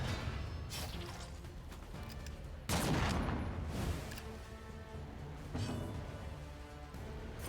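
Plague grenade explosions in the Darkest Dungeon 2 video game, a burst of crackling blasts and whooshes with one loud peak midway, surrounded by rumbling battle sounds and music.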